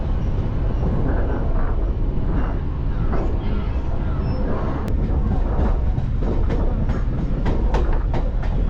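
A Chennai suburban train rumbles loudly and steadily with clacking wheels on track as it enters Tirusulam railway station, a continuous heavy roar, with a voice speaking over it.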